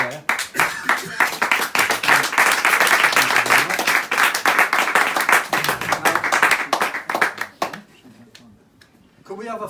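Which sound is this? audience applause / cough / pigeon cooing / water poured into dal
audience applause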